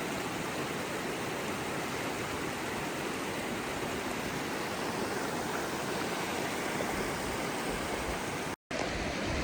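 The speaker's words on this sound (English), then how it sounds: "the water going into the snow, it's kind of like a river" Meltwater river rushing beneath snow in the Rawah Wilderness of northern Colorado, a steady broadband roar of flowing water holding constant throughout, with one brief dropout near the end.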